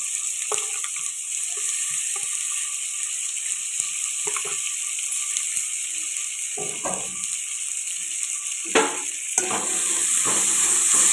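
Tomato pieces fry in a pan with ginger garlic paste for egg biryani, giving a steady close sizzle with occasional stirring scrapes and taps.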